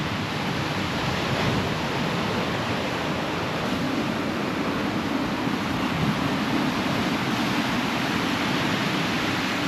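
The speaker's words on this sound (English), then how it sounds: "We're going to check the waves." Ocean surf at a beach gives a steady, dense roar of breaking waves, a broad hiss that holds evenly throughout with no voices.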